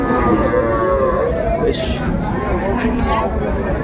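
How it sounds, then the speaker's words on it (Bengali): A dairy cow with her calf lows loudly and nearby at a village cattle market selling Sahiwal, Sindhi and local breeds, over a constant background hubbub of people talking. "সুন্দর গাভী বাছুর।"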